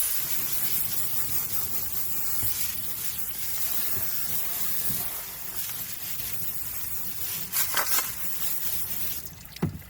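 Water rinsing a batch of tumbled rocks, a steady spraying hiss with a few brief louder splashes near the end, close and continuous with no talk.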